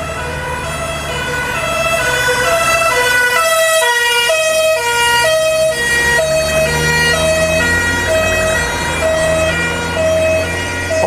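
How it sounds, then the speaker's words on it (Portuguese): A fire truck siren wails loudly in a repeating two-tone pattern as the vehicle passes close by, with engine rumble underneath. "Deixa só esse caminhão dos bombeiros passar."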